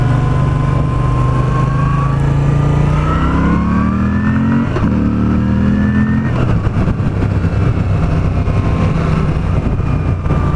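A Moto Guzzi V9 Roamer motorcycle in Paris accelerating hard in second gear, its engine loud and close, pitch climbing steadily before a shift, then a rough, busy roar.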